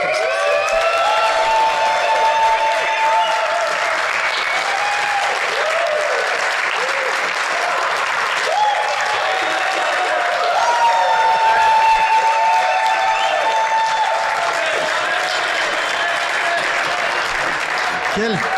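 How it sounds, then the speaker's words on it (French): Audience applause, a long, sustained wash of clapping from a crowd, loud and even for the whole stretch, with voices and cheers mixed in under it. "Quel tonnerre d'applaudissements."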